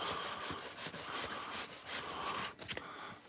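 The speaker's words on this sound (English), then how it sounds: "Now I'm sanding this part down. This had a big paint drip on it." A door is hand-sanded to remove a big paint drip, giving a quick run of rhythmic back-and-forth scrubbing strokes, close and fairly quiet, that stop abruptly near the end.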